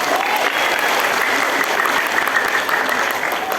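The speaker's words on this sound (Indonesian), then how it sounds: "Tepuk tangan." Dense, continuous applause from a large audience at an Indonesian motivational seminar, loud and sustained without letting up.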